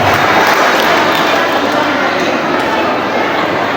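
Large crowd at a community New Year celebration in a Bandung hall applauding, a loud, continuous wash of clapping that holds steady throughout, with a voice faintly underneath.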